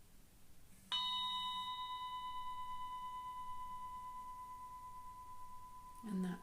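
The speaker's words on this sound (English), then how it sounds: "that bell brings our meditation practice to a close" A meditation timer bell strikes once and sustains a pure, ringing tone that slowly fades over several seconds in a quiet room, followed by a brief soft rustle.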